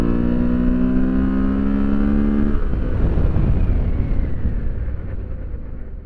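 A car on Tusk 2Track knobby adventure tires brakes hard from about 75, its steady engine drone dropping away into loud rushing road and wind noise as it slows.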